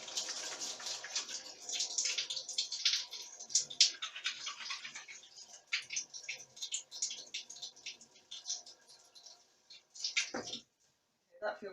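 Water splashes and trickles in uneven bursts as a face is rinsed at a sink, close and fairly faint, ending in a brief louder splash before silence.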